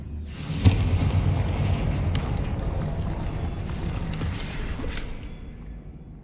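Confringo fire spell in Hogwarts Legacy: a sharp burst at the start followed by a long, dense rumbling blast of fire and debris that slowly fades over several seconds, with no talking.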